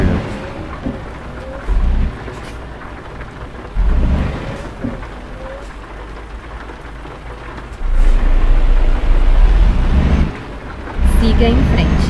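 Steady rain patters in Euro Truck Simulator 2 while low rumbles of thunder swell up in several bursts, with a voice occasionally speaking underneath.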